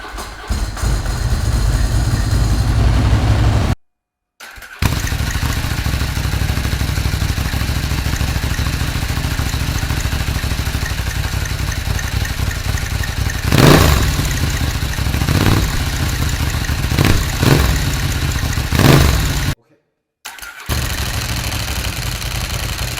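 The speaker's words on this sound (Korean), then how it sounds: "기왕 앉은 김에 엔진 소리를 한번 들어봅시다" A Ducati PaulSmart 1000 LE motorcycle engine is started after a brief pause, then settles into a loud, steady close-up idle with a rough, rhythmic beat. It cuts out briefly near the end and returns without any talk.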